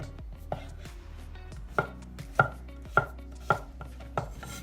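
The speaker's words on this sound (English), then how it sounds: "And the courgette, I'm going to do into chunks." A knife chops courgette into chunks on a board for a coconut milk curry, landing steady, fairly soft knocks at an even pace with faint background hum.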